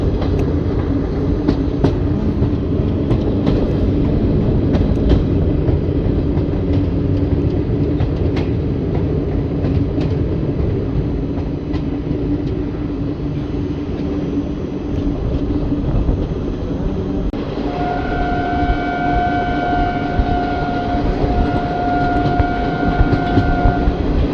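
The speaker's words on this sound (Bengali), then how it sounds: "সকাল প্রায় দশটার সময় ট্রেন ধীরে ধীরে কাটোয়া জংশন এন্টার করছে" The Malda-Howrah Intercity Express rumbles loudly and continuously as it slowly enters Katwa Junction in the morning, wheels clattering, and near the end a long, steady two-tone horn blares.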